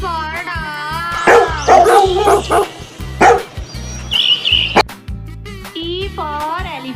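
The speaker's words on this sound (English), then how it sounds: "D for dog." A dog barks and yips a few times within a children's alphabet phonics song, with short barks set against bouncy music and singing.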